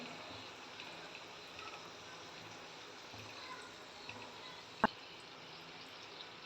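A little batter dropped into hot oil to test the temperature before frying ridge gourd bhaji gives a quiet, steady fizzing sizzle with a single sharp pop near the end.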